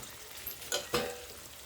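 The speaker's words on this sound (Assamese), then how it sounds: "আৰু এতিয়া মই মাংসখিনি আৰু অলপ লাৰি দিছোঁ।" Chicken curry meat being stirred in a hot pan, a quiet sizzle with a couple of brief scraping stirs near the middle.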